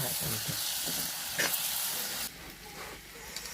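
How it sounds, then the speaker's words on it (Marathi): Tomatoes and paneer sautéing in a hot pan for paneer bhurji, a dense sizzle with a brief clatter midway, then a quieter, softer fry in the last second, with no voices. "आता त्याच्यावरती टॅमॅटो परतून घेतले ठीक आहे आणि त्याच्यावर आता पनीर टाकायचं"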